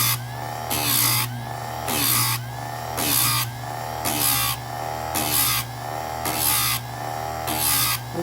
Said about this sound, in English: just going to keep sharpening this one side until I come to that paint mark